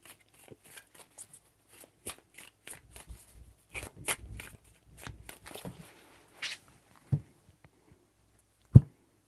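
Tarot cards shuffled by hand in soft, scattered riffles and slides, fairly close and quiet, ending with a couple of sharper taps as the deck is set down.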